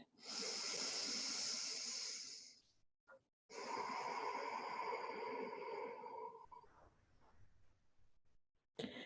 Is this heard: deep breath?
yes